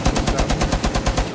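Rapid automatic gunfire in the video game Rainbow Six Siege, a loud, close burst of evenly spaced shots firing in quick succession with no pauses.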